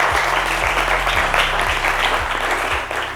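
Applause from the audience at a school competition final, a thick continuous wash of clapping over a steady low hum with a repeating low rumble underneath.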